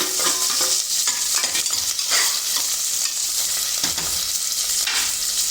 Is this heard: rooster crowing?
no